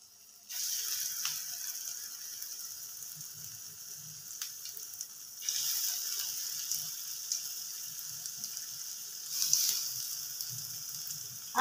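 Small lentil fritters (dal bora) drop into well-heated oil, a soft steady sizzle and crackle rising in bursts as each batch goes in, close and fairly quiet, with no talk.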